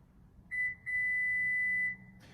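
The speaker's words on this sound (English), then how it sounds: "press and hold the open and close switch until you hear a series of beeps" Two electronic beeps from a 2020 Subaru Ascent power tailgate sound in a quiet setting, a short chirp followed by a longer steady tone lasting about a second.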